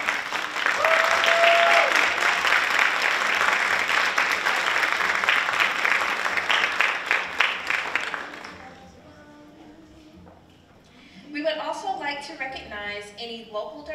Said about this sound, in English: we would love to give you a round of applause for showing your support today